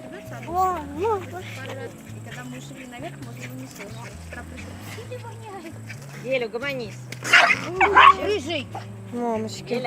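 A dog yips, whimpers and gives short barks in bursts, with a low melodic sound running underneath and an agitated flurry near the end.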